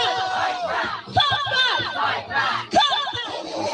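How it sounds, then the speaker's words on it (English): Protest crowd at a UK demonstration cheering and shouting in rising surges, a dense mix of many voices with excited yells peaking around mid-clip and near the end. "They're cheering."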